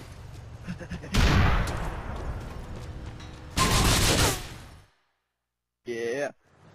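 Gunfire in GTA IV, heavy bursts of shots and a rolling blast at close range, separated by short gaps, with a brief voice near the end.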